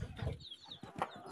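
Farm chickens on a small homestead flock cluck softly in short, uneven bursts, quiet and close, with no one speaking.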